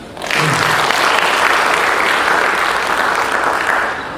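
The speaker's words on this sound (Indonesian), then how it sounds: "Ya, tepuk tangan." Sustained applause from the audience at the 75th National Cooperative Day event and the Ikopin University launch, a dense, steady wash of many hands clapping that starts abruptly, stays loud throughout and tapers slightly at the end.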